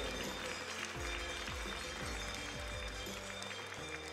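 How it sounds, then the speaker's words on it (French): Applause from spectators at a Tarentaise cattle breed show honoring the four owners, a dense, fairly distant patter of clapping continuing under a low rumble and knocks. "tous vos applaudissements, s'il vous plaît, aux 4 propriétaires"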